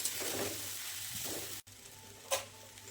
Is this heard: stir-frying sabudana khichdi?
yes